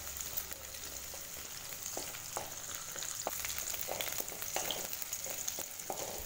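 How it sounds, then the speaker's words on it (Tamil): Onions and whole garlic sauté in oil over a medium flame for okra tamarind curry, giving a steady close sizzle with scattered spatula scrapes and taps throughout. "மீடியம் ஃப்ளேம்லேயே வச்சு இதை வதக்கி விட்டுக்கலாம்."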